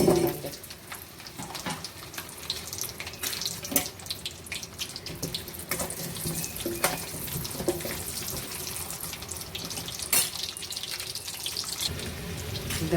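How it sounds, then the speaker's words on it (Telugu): Amla gooseberries fry in hot oil while making usirikai pachadi, a steady close sizzling hiss dotted with sharp crackles and pops throughout. "ఇప్పుడు ఈ ఉసిరికాయల్ని నూనెలో వేసి వేస్తానండి."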